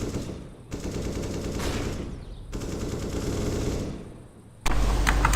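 Rapid automatic gunfire in a tactical shooter video game, bursts of shots separated by short pauses, loud and close, ending with a sharp, harsher volley.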